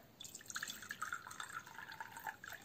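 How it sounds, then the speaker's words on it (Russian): Pomegranate juice pours quietly into a container in a kitchen, a faint trickling and dripping of liquid with small splashy ticks over a few seconds. "Наливаем сок."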